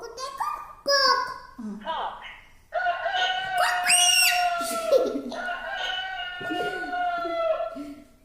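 A voice imitates a rooster crowing with a few loud, strained, drawn-out calls broken by short pauses.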